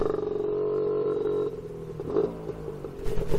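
A Casa Performance SST265 motorcycle on a first ride, its engine droning steadily and fairly loud, then dropping lower with uneven surges as the throttle changes.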